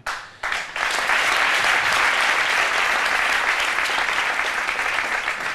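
Loud, dense applause from a crowd bursts in after a brief pause and continues steadily throughout, close and sustained.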